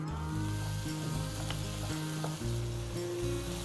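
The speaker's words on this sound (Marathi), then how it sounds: "आता आपण घालणार आहोत आपण तयार केलेलं वाटण आणि हे आता छान असं परतून घेऊया" Ground masala paste sautéing in hot oil for a Maharashtrian misal, a steady close sizzle and fry with stirring scrapes throughout, no talk.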